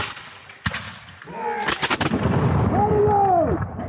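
Muskets fire in a volley at a Revolutionary War skirmish reenactment at Great Bridge, with a sharp crack followed by a ragged burst of overlapping booming shots and lingering rumble, loud and outdoors, as shouted commands sound nearby.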